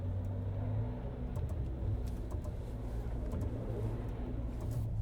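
A BYD Shark pickup spinning a wheel off-road under constant throttle while digging into the ground, a steady low engine rumble with a droning whine, fairly close and unbroken.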